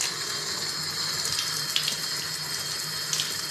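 Steady rush of water from a tap pouring into a bathtub at lowered pressure, continuous and fairly close, with no talk.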